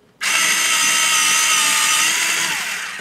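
A Westcott iPoint Halo electric pencil sharpener whirs on suddenly and grinds a colored pencil with a loud, close, high-pitched buzz that holds steady, then eases slightly near the end.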